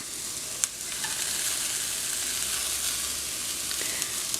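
Carrots, broccoli and cabbage fry in a hot pan with a steady loud sizzle, broken by a few soft clinks and scrapes of stirring, close up and with no voices.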